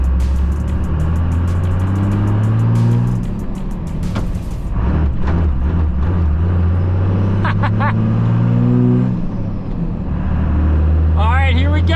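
A 1995 Cummins P-pump diesel pickup with an NV4500 manual transmission cruises along, its steady low engine drone rising and falling with shifts and throttle, close up inside the cab while someone talks over it.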